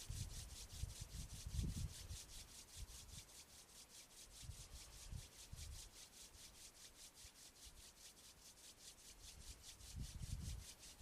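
Palms rubbed steadily together during a Five Animal Frolics qigong exercise, a quiet, continuous dry swishing with a regular back-and-forth pulse, heard alone without talk.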